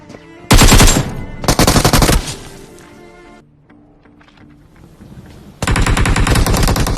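Automatic weapon fire in PUBG Mobile, with two loud close bursts of rapid shots early on, a quieter stretch, then a sustained burst at the end, and no talking.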